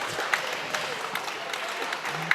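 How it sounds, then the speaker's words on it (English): A crowd at a junior varsity boys basketball game between Darien and Wilton cheers a three-pointer at the buzzer, a steady wash of noise with scattered sharp bursts and faint voices mixed in. "The crowd erupts with a three-pointer at the buzzer."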